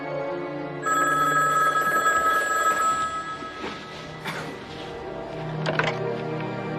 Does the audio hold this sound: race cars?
no